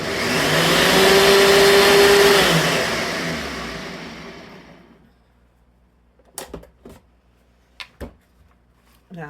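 A blender froths a latte in a loud whirring burst that winds down and fades after about four seconds, followed by a few sharp knocks in near silence.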